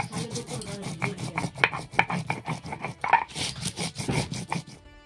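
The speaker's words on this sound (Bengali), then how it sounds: "তো চলো এটা আমি এখন শিলনোড়াতে বাটবো" Whole coriander, cumin, garlic and chilli are ground on a shil-nora grinding stone with repeated close, gritty rubbing strokes in a steady back-and-forth rhythm, punctuated by occasional sharper knocks of stone on stone.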